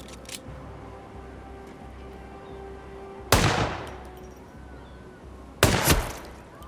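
Two loud, sharp gunshots ring out in the Hitman video game on the beach at Sapienza, a few seconds apart, each a sudden broadband crack with a short decay over a low, steady ambient backdrop.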